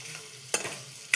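Potatoes fry in oil with a steady close sizzle, broken by two sharp scraping stirs of the pan, one midway and one at the end.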